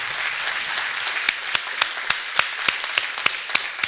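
Jazz festival concert audience applauding music teachers, a wash of crowd clapping with one nearby pair of hands landing sharp, evenly spaced claps that grow prominent toward the end.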